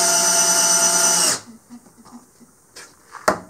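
Hyper Tough 12-volt drill at low speed drives a 3-inch decking screw into stacked 2x4s, a loud steady motor whine that stops abruptly, followed by faint clicks and handling knocks.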